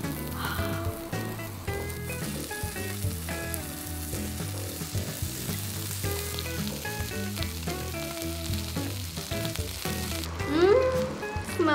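Wagyu rib fingers sizzle on a hot Korean BBQ grill with a steady crackling fry, close and continuous, under music playing throughout.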